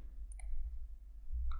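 Two quick mouse clicks close together, then a third a moment later, crisp and near on the Next button of a software installer, over a low steady hum.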